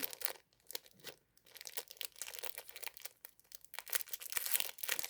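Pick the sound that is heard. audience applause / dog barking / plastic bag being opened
plastic bag being opened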